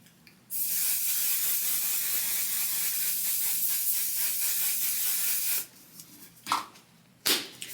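One Size makeup setting spray hisses out in a single continuous five-second burst close by, followed by a few short handling clicks and rustles.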